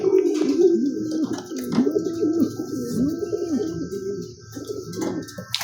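Racing pigeons cooing at close range as they come home to a loft in Rosales, Pangasinan, steady overlapping coos with a few soft chirps and faint background noise.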